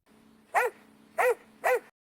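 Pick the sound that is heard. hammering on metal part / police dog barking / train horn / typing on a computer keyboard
police dog barking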